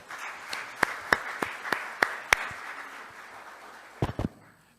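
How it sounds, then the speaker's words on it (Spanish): Sparse, sharp claps ring out in a quiet hall as professor José Antonio Caro Young is welcomed at a criminal law lecture, a handful of distinct slaps spaced apart, then a final quick double clap. "Vamos a recibir entonces con un fuerte aplauso al profesor José Antonio Caro Young."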